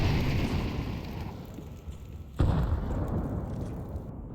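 Gunfire from Counter-Strike on the Vertigo map during a professional ESL match, shots punching through wood: one sharp, loud burst cuts through a steady wash of game noise.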